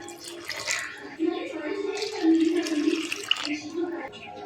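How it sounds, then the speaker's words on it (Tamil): Water poured into a pot for homemade soup with pepper and cumin, a steady splashing pour lasting a few seconds, close and moderately loud. "தண்ணி சேர்த்துடலாம்."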